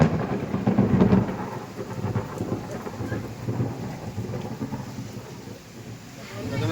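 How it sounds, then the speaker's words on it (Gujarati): Heavy rain pours down steadily while deep thunder rumbles and cracks through it, the storm loudest near the start and swelling again toward the end. "તમે કડાકા ફડાકા સાંભળ્યા છે દોસ્તો"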